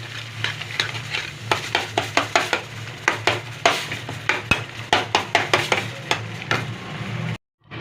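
A spoon stirs tomato chutney in a pan with quick, rhythmic scraping strokes, roughly two a second, over a low cooking hum, before the sound cuts out briefly near the end.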